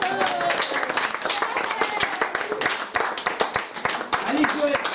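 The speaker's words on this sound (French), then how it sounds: "On peut l'applaudir quand même, Joël" Guests applaud Joël at a gathering, a dense, steady patter of many hands clapping throughout, with voices talking and calling out over it.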